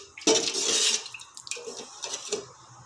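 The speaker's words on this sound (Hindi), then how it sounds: "मेरे में उतना ही सेम पानी ही डल रहा है।" Water poured into a cooking pot of rice for a Pakistani mutton pulao, a short splashing gush up close followed by a few lighter trickles and drips.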